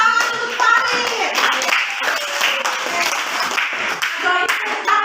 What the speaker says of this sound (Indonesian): Ya, kita kasih tepuk tangan untuk Farid.